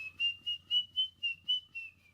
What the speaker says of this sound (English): The cabbie started whistling cheerfully as we crossed over another pair of railroad tracks.